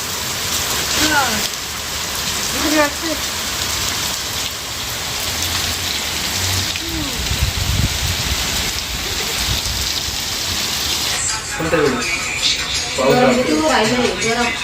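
The first rain of the season falls steadily at a home, a dense continuous hiss of drops on surfaces that fills the whole stretch while several people talk over it nearby.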